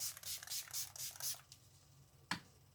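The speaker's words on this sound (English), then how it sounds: "Let us spray with Jars Slay All Day setting spray." Jars Slay All Day makeup setting spray spritzed close up in a rapid run of about six quiet, airy hisses, followed by a pause and a single soft click.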